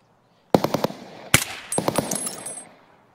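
Bursts of automatic gunfire in the video game Escape from Tarkov crack out in quick clusters, loud and sharp with a lingering echo trailing off, heard alone without talk.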